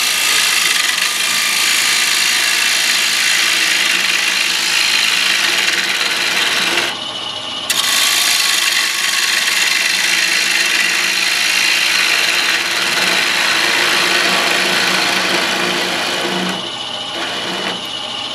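A wood turning tool rubs its bevel along the bottom of a spinning thin-walled bowl, giving a steady, loud rasping hiss that runs almost unbroken, with a short gap partway through.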